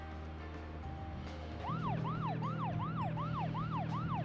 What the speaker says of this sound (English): You just gotta listen to that annoying siren.